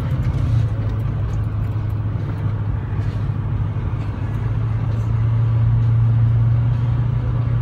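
A 2006 Ford F-350 pickup with turbo problems pulls uphill, its engine a steady, loud, low drone that swells slightly toward the end, heard from inside the cab.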